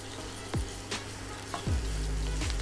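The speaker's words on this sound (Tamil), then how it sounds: "வெங்காயம் மிளகாவும் நல்லா வதங்கணுங்க." Onions and chillies sauté in hot oil with curry leaves for an Andhra chicken chintamani, a close, steady sizzle with a few quick stirring scrapes.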